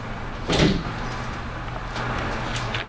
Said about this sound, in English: So basically, we open the door to gain access to the hinge.